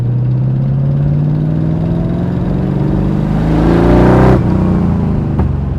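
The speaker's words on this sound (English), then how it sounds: "few crackles and pops from the exhaust" A 1998 Dax AC Cobra pulls hard in second gear on a back lane, its engine note climbing steadily before the throttle lifts and the exhaust gives a couple of sharp pops and crackles, loud and close.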